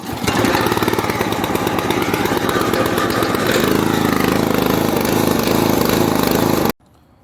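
Small engine on a firewood log splitter pull-started with choke and throttle set, catching immediately into a loud, steady, rapid chugging run that changes pitch slightly midway, then cutting off abruptly near the end.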